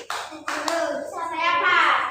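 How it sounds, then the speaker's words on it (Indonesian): A class of children does a rhythmic spirit clap, a few sharp claps in a pattern followed by young voices chanting together, close and fairly loud. "tepuk semangat bagi yang terakhir sudah."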